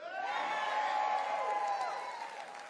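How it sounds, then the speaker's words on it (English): A rally crowd roars with cheers and applause, a dense sustained wash of voices and clapping that holds strong and then eases slightly toward the end. "it's difficult to hear over the applause of our fellow patriots"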